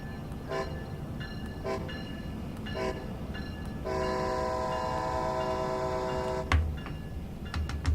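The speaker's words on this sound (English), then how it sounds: "lovely train, the ACS64, so with the North East Regional" ACS64 electric locomotive on the Northeast Corridor in Train Sim World 2, a Boston Sprinter run: a steady rumbling run with short horn toots early on, then a long sustained horn blast mid-clip before a clunk and continuing rail noise.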